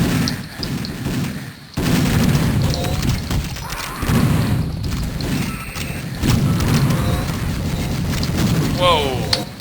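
Loud bursts and booms of a bomb explosion amid gunfire in the video game Doom, with heavy continuous in-game combat noise throughout.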